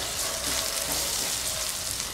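Kashmiri chilli powder and Malvani masala being stirred into a pan for chana masala gravy, giving a steady, even sizzle with soft scraping throughout and no voices.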